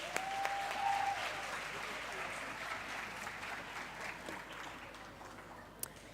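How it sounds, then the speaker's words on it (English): Applause from a seated audience at a university campus safety programme event, moderate and fairly distant, a steady wash of clapping that slowly thins out. "A round of applause, ladies and gents."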